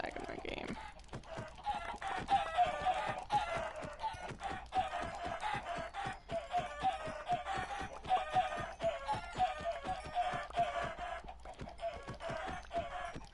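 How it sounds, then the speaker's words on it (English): Chickens in a video game cluck and bawk over and over at close range, with rhythmic tapping and clattering running underneath and no talking. "Oh, the chickens in here. I gotta kill them because they're kind of lagging my game."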